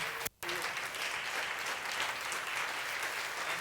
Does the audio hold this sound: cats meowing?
no